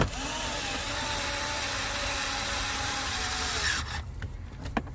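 A power driver whirs steadily up close while sinking screws into a Toyota pickup, running continuously for nearly four seconds before stopping, followed by brief clicks and handling noises.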